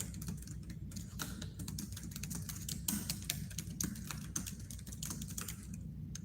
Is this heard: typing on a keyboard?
yes